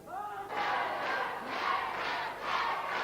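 A late-1970s NWA wrestling arena crowd roaring in loud, repeated surges of cheering that swell and fade about every second, with no voices standing out.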